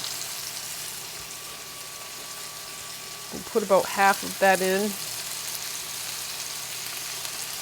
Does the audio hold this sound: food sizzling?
yes